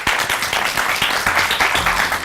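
A studio audience applauds loudly as a guest is welcomed on a Pakistani morning TV show, a steady, dense wash of clapping that fills the whole short stretch with no talk over it.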